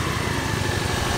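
Honda Navi scooter engine idling while it warms up, a steady close putter with a quick regular pulse throughout the short stretch and no talk.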